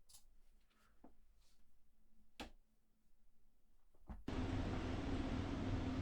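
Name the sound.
recorded washing machine sound in a music piece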